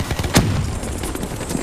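Loud gunfire in a Call of Duty Black Ops III multiplayer match, one sharp shot followed by a rapid burst of close, rattling rounds over a noisy battle background.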